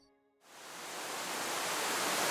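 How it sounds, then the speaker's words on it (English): A mountain creek of falling water in the Colombian Andes rushes in after a brief quiet start, a steady broadband hiss that grows slightly louder and stays continuous. "Suddenly I hear the sound of falling water and follow the stream."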